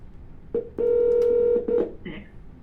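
A phone keypad beeps out short DTMF dialing tones, one brief tone then a long steady one and another short tone, loud and close, with faint voice sounds around.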